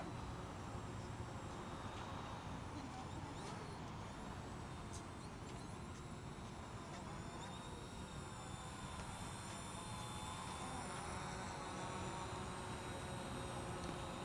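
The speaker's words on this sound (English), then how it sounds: "Give you a nice close-up look at the drone." A Wefone WF20 camera drone hovers close by, giving off a steady, quiet motor hum with a thin high whine that lasts the whole time, and no one talks.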